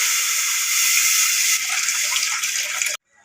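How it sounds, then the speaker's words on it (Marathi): Water poured into a large pot on a gas stove at medium flame gushes loudly and steadily for about three seconds, then cuts off abruptly. "आता इथे गॅस ऑन करून एक मोठं पातेलं ठेवलं आहे आणि गॅस मिडियम फ्लेमवर ठेवला आहे आता मी पाणी घालते"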